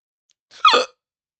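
A single short hiccup, a quick high squeaky gulp heard close and alone against silence.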